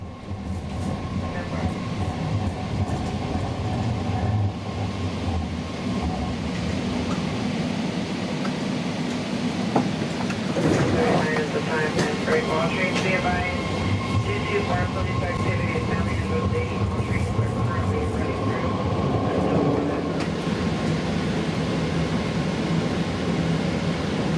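BART train rolling through the underground segment after departing Lake Merritt station, a steady loud roar of wheels and tunnel rumble with rattling carriage noise and faint squeal throughout, no voices over it.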